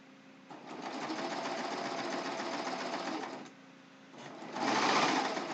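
A serger sewing machine stitches a ruffled pillowcase with a steady, close mechanical whir in two runs separated by a short pause, and the second run is faster and louder.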